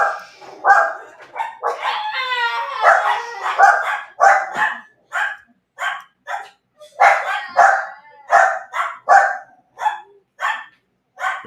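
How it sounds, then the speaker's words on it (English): Several dogs bark wildly in a frantic, overlapping string of sharp barks and yips, loud and near, with a rising yelp early on and steady repeated barking to the end. "The dogs are going wild."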